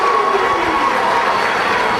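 A wrestling crowd at the Shamrock Cup tag-team match roars steadily as fans rise to their feet, a dense, loud wash of cheering with no clear individual voices.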